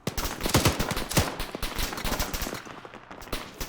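Heavy gunfire in Arma 3 during an alternate-history Falklands War battle: dense, overlapping bursts of rifle and machine-gun fire crackle continuously at close-to-mid range, thinning slightly toward the end.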